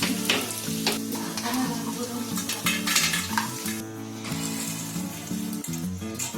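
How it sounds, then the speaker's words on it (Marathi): Edible gum roasts in hot ghee with a close, busy sizzle and bubbling, broken up by repeated metallic scrapes and clinks of a spoon stirring against the pan. "तुपात आपल्याला डिंक भाजून घ्यायचे."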